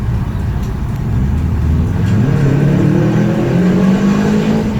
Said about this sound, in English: Let's see if it sounds like a Subaru